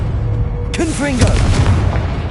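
An explosion from the Confringo blasting spell in Hogwarts Legacy cracks out sharply, followed by a ringing magical burst and rumbling decay, with game sound continuing beneath.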